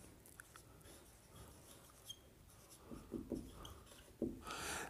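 Faint pen or pencil scratching as someone writes by hand, with soft sporadic strokes that grow a little louder near the end; no speech.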